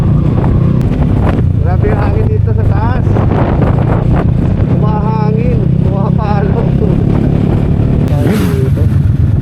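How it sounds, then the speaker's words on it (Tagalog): Strong wind buffeting the microphone at a hilltop campsite above Pililla, Laguna, a loud constant roar with people talking over it throughout. "Grabe yung hangin dito sa taas."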